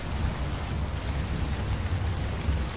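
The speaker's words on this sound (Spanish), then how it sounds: "y llueve" Steady rain pours across the whole stretch in ARK: Survival Evolved on The Center map, a dense even hiss with low rumbling underneath, constant and moderately loud with no voices.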